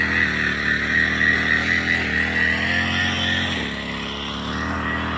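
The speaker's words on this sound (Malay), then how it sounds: "Sini tuan punya kebun ataupun pekerja kebun ni sedang memotong rumput" A plantation worker cutting grass with a motorised grass cutter in a durian orchard near the Liman Kati summit, giving a steady, buzzing engine drone at moderate distance that eases slightly partway through, with no talk.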